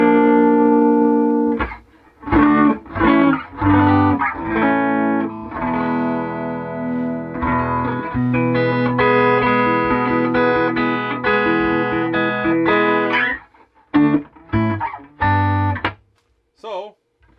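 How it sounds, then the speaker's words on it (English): Electric guitar played through a Fender Bassman 100 amplifier, bright chords and strummed phrases ringing with slight grit, broken by short pauses and choppy stabs toward the end, close and loud. "So to me, honestly, this amp sounds just fine."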